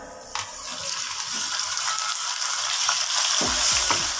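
Tomatoes hit hot masala with mustard seeds over medium heat for kadhi pakora, setting off a sudden loud sizzle that keeps hissing and crackling close by, with a few clinks of the spoon near the end.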